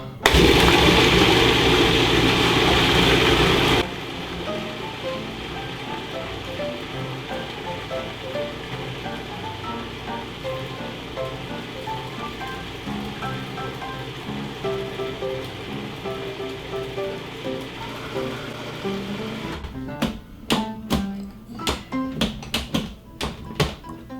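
A countertop blender loudly purees deviled egg filling for a few seconds, then drops to a steady lower whir, and ends with a series of sharp taps and knocks.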